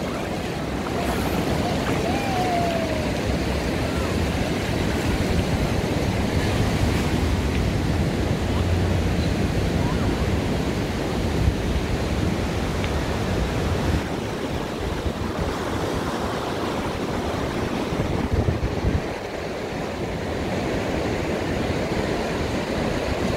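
Ocean surf breaking on the beach at Balneário Camboriú, a continuous broad roar of waves with wind rushing across the microphone, loud and unbroken throughout.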